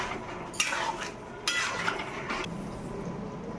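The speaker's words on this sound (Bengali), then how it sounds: "এরপরে ভালো করে নাড়িয়ে পরে সবগুলোকে ভালো করে মিক্স করে রেখে দিলাম।" A utensil stirs chilli fish in a pan, scraping and clinking against the metal in a few distinct sweeps, close up and fairly loud, with no talking.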